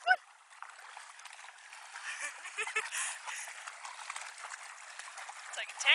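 A dog runs and splashes through river water, producing a continuous hissing, sloshing wash at moderate level with bursts of heavier splashing and a couple of faint voice-like sounds.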